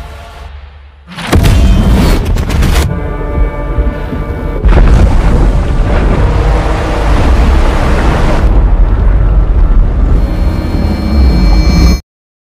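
A huge underwater explosion booms after a brief quiet, followed by a sustained, loud roaring rumble that continues for several seconds before cutting off abruptly.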